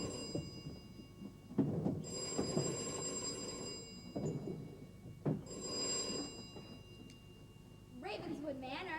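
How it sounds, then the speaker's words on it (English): An old-fashioned telephone bell rings in repeated bursts inside a desk drawer during a stage play, each ring separated by pauses while actors talk around it. "It's a telephone."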